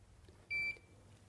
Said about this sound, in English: Each beep will take it up a minute to 7 minutes